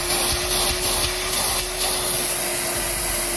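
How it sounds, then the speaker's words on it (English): An EGO 9-gallon cordless wet/dry shop vac runs on its lowest speed, a close, steady motor whine with a constant airflow rush and a faint bump or two. "turn it on so that you guys can hear the difference between speed 1 and speed 2 and turbo"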